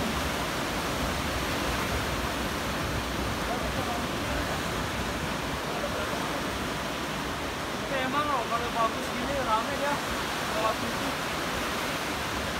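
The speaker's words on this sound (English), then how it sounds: "Yes, bumping waves." A steady roar of surf in Bali fills the scene, waves breaking continuously at a distance with a constant wash of noise and faint chatter mid-way.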